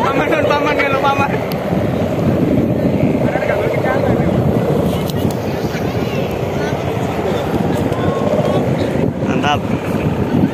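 A kite hummer fitted with a 0.20 mica reed drones continuously overhead in a steady, buzzing, snore-like tone, loud and unbroken.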